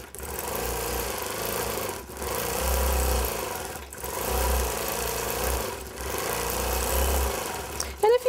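A longarm quilting machine stitches feathers in a steady, loud mechanical drone that rises and falls in surges, with brief pauses between passes and a few clicks at the end.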